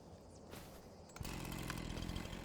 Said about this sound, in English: Bring out Charlie the Chainsaw